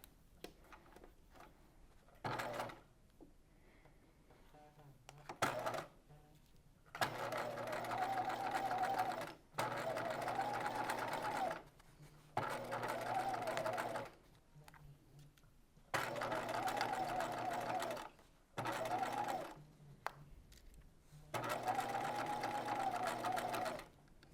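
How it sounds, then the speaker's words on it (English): A sewing machine stitches in the ditch along a seam of a waspie corset belt, running in several loud, steady bursts of mechanical whirring separated by short pauses. "I'm going to take it to my machine and I'm going to stitch in the ditch from the right side"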